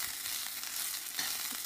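Fried rice frying in a hot pan gives a dense, close sizzle, with a few brief scraping bursts as it is stirred through.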